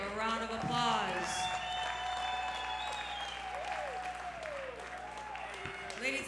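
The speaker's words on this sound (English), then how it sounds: "let's give these two warriors a big round of applause" Arena crowd applauding two boxers after an IBF junior welterweight bout, a steady wash of clapping and cheers beneath a ring announcer's voice speaking over it.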